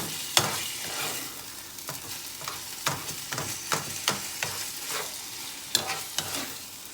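A chicken, tomato and onion mix being stirred in a hot pan, sizzling steadily with repeated scraping strokes of the spoon, close and moderately loud, no voices.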